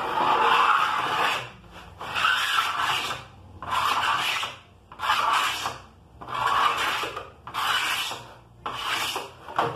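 Excess is trimmed off a custom wooden cutlery divider with a rasp or saw, making loud rhythmic rubbing strokes, about six back-and-forth passes with brief pauses between them, close up and without talk.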